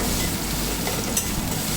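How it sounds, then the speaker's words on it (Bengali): Spices fry in a pan for a baby's khichuri, giving a steady close sizzle with faint stirring scrapes and no talking. "মশলাটা একটু ভাজা ভাজা করে নেব,"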